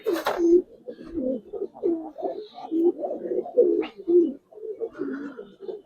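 Giribaz pigeons coo close by in repeated soft, throaty phrases, a steady run of low burbling calls with brief gaps.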